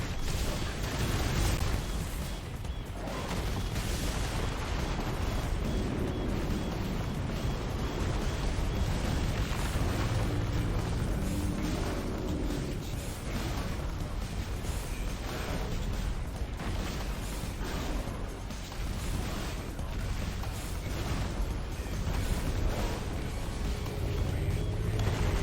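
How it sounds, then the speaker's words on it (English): Explosions in the video game Final Fantasy 16 keep up a dense, continuous roar of booms and crackling bursts over game music for the whole stretch, loud and unbroken with no clear pauses. "The explosion range of that is much smaller than I keep thinking."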